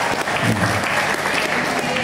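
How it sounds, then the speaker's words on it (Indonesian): A seminar audience at an Islamic boarding school anniversary event claps in a steady, dense round of applause that fills the room throughout. "tepuk tangan."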